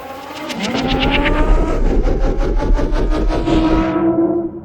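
A loud engine roar climbs steadily in pitch, its harmonics sweeping upward like a revving race car before cutting off at the end.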